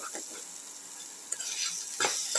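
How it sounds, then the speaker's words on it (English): A spoon stirs chili powder into a sizzling ginger, onion and tomato mix in a pan, giving a few soft scraping strokes over a quiet, faint sizzle. "A spoon of chili powder, stir the mix thoroughly."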